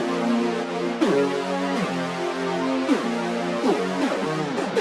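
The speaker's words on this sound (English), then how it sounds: "Nice hard synthy sound" A hard, buzzy synth layer from a trap rager beat plays alone, sustained chords with gliding pitch slides and stepping changes, loud and clean with no voices.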